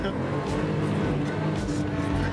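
A car engine on a race track at a Fast Club driving day roars steadily as it accelerates hard, loud and close, with a voice talking over it.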